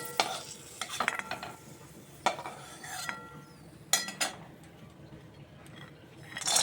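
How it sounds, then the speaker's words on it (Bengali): Cashews frying in a pan for a vermicelli dish, with a faint steady sizzle broken by intermittent clinks and scrapes as they are stirred close by; no talking. "কাজুগুলো ভেজে নিচ্ছি।"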